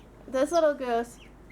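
A little gosling, a baby goose, gives a couple of short, high, wavering peeps close by, followed by quiet.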